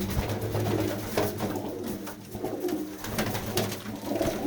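Pakistani flying pigeons coo continuously nearby in their loft, a low throaty warbling from several birds overlapping with faint rustling.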